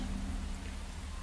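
Steady rain falling in the Enshrouded video game, a dense even hiss with no talk over it.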